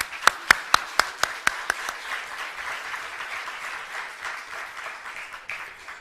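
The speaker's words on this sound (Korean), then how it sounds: "큰 박수 부탁드리겠습니다." At an opening ceremony for a Korean diaspora youth conference, a few sharp, near claps start off and quickly swell into steady applause from the hall audience, gradually tapering off.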